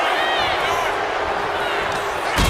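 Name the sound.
crowd cheering in WWE 2K25 video game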